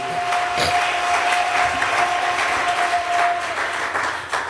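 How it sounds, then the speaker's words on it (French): A church congregation breaks into sustained, dense applause for Jesus during a sermon, steady and loud throughout, with a faint held tone beneath the clapping. "Est-ce que tu peux acclamer pour ton Jésus?"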